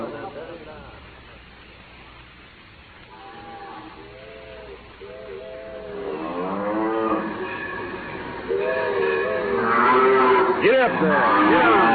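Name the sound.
cattle mooing, radio drama sound effect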